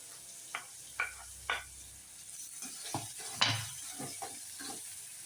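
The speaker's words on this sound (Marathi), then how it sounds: "लगेच घालते मी कांदा। कांद्यासोबतच लसूणही घालायचा" Onion and garlic added to hot oil with cumin and asafoetida for besan zunka, a soft sizzle under a series of sharp spoon taps and scrapes against the pan.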